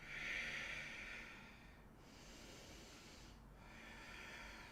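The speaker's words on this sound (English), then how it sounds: "Let's take a few breaths here." Slow, deliberate breaths during yoga practice, a soft airy inhale and exhale repeating close and quiet with no talking.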